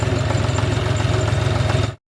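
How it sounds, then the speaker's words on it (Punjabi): A steady, low John Deere 4x4 tractor engine idles with a rhythmic throbbing pulse throughout on a potato farm, then cuts off abruptly near the end. "ਅੱਜ ਟਰੈਕਟਰ ਬਦਲ ਲਿਆ ਜੋਨੀ ਨੇ"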